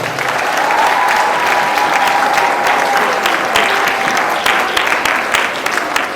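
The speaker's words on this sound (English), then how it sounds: "A round of applause for the staff choir." Loud, sustained applause from an audience at a school Independence event honoring the staff choir, a thick, even clatter of many hands clapping close by, with a faint held tone in the background.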